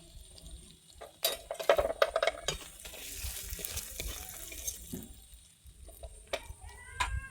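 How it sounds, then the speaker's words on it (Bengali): Ginger and spices with a pinch of chilli powder being stir-fried in a pan for a fish head and pumpkin curry, with scraping spatula strokes and bursts of sizzling that rise and fall, close up, without speech. "দিয়ে আমি ভালোভাবে কষিয়ে নিচ্ছি"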